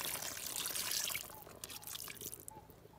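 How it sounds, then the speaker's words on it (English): Water poured from a container into a cast-iron potjie pot over a wood fire, holding koedoe meat, stock, jam, vinegar and herbs; a steady splashing trickle that is loudest at first, then thins into lighter dribbles. "Top up with some water,"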